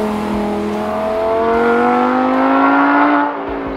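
A Lamborghini Huracan Spyder engine revs loudly and close up as it accelerates, its tone rising steadily, then eases off near the end.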